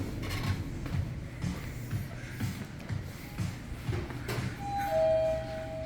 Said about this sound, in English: Almost sounds like an airport chime.